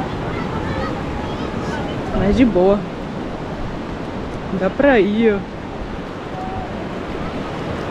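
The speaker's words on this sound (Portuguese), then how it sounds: "Ruim é enfrentar essas ondas aqui, né?" Surf breaks on Praia Pernambuco in Guarujá on a cold morning, a steady broadband wash of waves rolling in throughout, with two short bursts of nearby talk over it.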